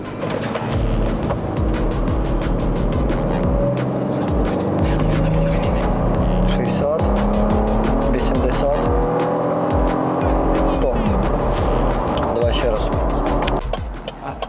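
A Toyota Land Cruiser Prado launches hard from a standstill. Its engine roars loudly and climbs in pitch through several gear changes for over ten seconds, with voices heard alongside.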